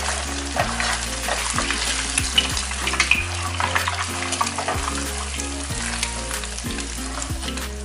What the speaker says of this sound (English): We are just going to scramble the eggs